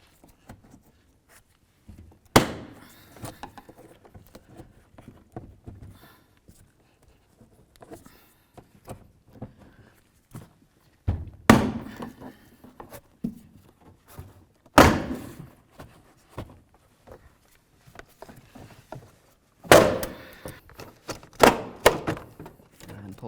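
Plastic trim panel being pried off the front door of a 2000-2005 Buick LeSabre, a series of sharp clacks and pops from the clips, separated by quieter handling noises, close up.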